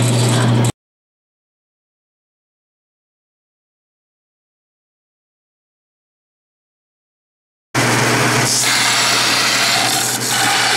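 Rasping file strokes deburr metal parts for a mini vertical metal band saw, heard close up in a short burst, then a long silence, then a longer stretch of steady scraping.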